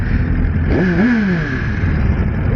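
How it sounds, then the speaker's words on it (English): A Suzuki GSX-R1000R superbike engine runs steadily up close, with a brief rising rev that swells and falls away in the middle; no one speaks. "I love the sound of these Gsx-Rs"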